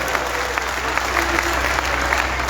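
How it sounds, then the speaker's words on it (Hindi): Audience applause for a comedian at an outdoor Hindi poetry and comedy gathering in a Ramlila ground, a thin, fairly even patter of clapping with a low steady hum underneath and faint voices in the mix. "तो एक बार जोरदार तालियां हिमांशु बाबू।"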